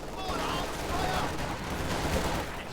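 MG42 machine gun fire in Company of Heroes 2 rattles continuously through a busy battle mix, with a commentator talking over it.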